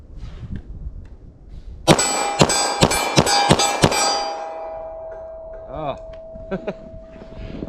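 A .40 Smith & Wesson pistol fires six sharp, loud shots in a quick regular string, each ringing with a metallic clang, then a few fainter clicks and a lingering tone.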